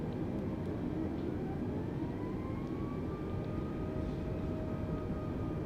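Airbus A320neo jet engines in Microsoft Flight Simulator 2020 spool up to half thrust at Leeds Bradford, a steady loud roar with a tone rising in pitch.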